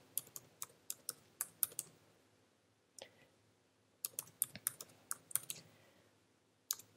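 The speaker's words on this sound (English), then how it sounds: "I type in its name and click Save button." Quiet computer keyboard typing in irregular bursts of sharp clicks, a run of keystrokes, a single tap, then another flurry and one last click, heard close with no talking.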